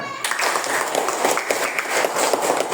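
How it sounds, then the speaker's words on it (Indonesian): Classroom audience clapping during a school lesson on positive culture, a dense, lively burst of many hands that continues steadily after a brief opening sound. "Tepuk tangan."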